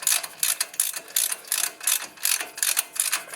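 A ratchet wrench clicks rapidly and steadily, close up, as it tightens the upper control arm bolt on a 2006 Dodge Dakota during a front wheel bearing job, with no talk over it.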